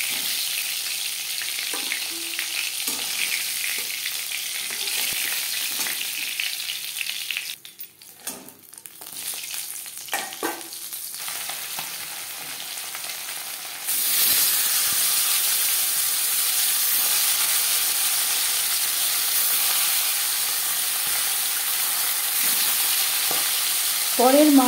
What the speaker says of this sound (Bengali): যেহেতু সামুদ্রিক মাছ আমি একটু কড়া করেই ভাজলাম